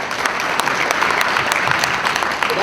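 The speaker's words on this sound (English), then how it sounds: "Give them a round of applause." An audience at a regional hotel owners' conference applauds donors with loud, steady clapping, close and continuous, with individual sharp claps standing out.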